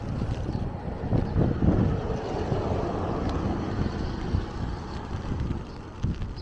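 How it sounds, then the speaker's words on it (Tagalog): Strong wind and heavy rain roar on and on, a dense, rumbling wash of gusts buffeting the microphone with steady rain hiss beneath, loud and close throughout with no voices. "Lakas pa ng hangin."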